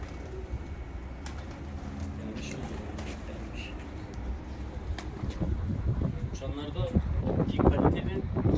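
Budapest deres goylak type pigeons coo softly outside a loft, low murmuring calls mixed with wind and background rustle, growing busier and louder toward the end while people talk nearby.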